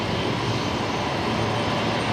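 Jet engines of a Jetstar Airbus A320ceo arriving at Brisbane Airport from Sydney, a steady broadband roar holding at constant loudness throughout, with no talk over it.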